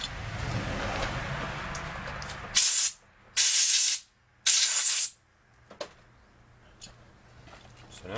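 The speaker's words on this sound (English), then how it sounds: "I'm just going to walk over to where I have some compressed air and blow the chips off of this" Compressed air blasts metal chips off a freshly threaded stud in a workshop in three sharp, loud hissing bursts, each about half a second long, after a stretch of close mechanical noise.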